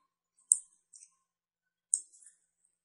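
Computer mouse button double-clicked twice in a quiet room, each pair a sharp, close, light tick followed by a softer second click.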